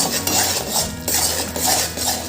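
A spoon scrapes and stirs urad dal flour roasting in ghee in a pan, continuous gritty rubbing with light metallic knocks in an uneven rhythm, close and fairly loud, with no voices.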